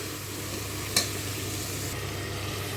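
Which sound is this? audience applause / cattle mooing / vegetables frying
vegetables frying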